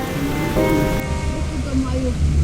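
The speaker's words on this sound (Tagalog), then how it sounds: "Malakas yung ulan dito guys." Heavy rain roars steadily, a dense broadband wash with low rumbling underneath, while a voice speaks faintly through it.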